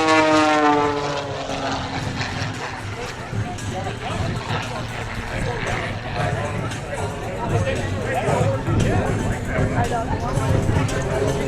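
An aerobatic propeller airplane performs at an air show in Florida, its engine drone loud and continuous throughout, rising and falling in pitch, with crowd babble and an announcer's voice underneath.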